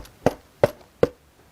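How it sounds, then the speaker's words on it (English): A pencil dropped onto a desk makes three sharp, evenly spaced taps, each a short woody click with a quick decay, fairly close and clear with no talking. "some people are dropping their pencils"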